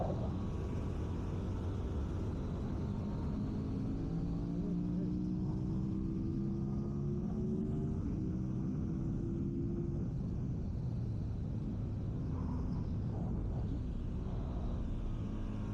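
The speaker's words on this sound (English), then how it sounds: "Just using the clutch a little bit on the gear changes" Ducati 916 motorcycle ridden on an otherwise empty race track, heard as a continuous engine drone whose pitch rises and shifts through gear changes, steady in level and without voices.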